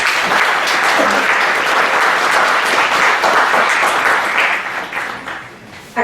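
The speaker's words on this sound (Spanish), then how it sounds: "Tengo el gusto de presentarles al licenciado Samir Andrés Fajardo Morales, para quien también pido un fuerte aplauso." Loud, full applause from a round-table audience welcoming a panelist, a thick steady roar of clapping that holds for several seconds, then thins and fades toward the end.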